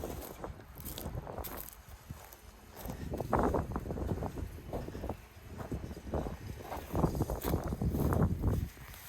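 Gusty wind buffets a microphone outdoors during fall garden cleanup, with irregular rumbling bursts and rustling throughout, close and fairly loud.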